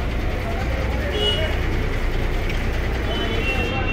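A bus bound for Bellary rumbles past nearby, a steady broadband engine and road drone holding level for a few seconds without clear talk.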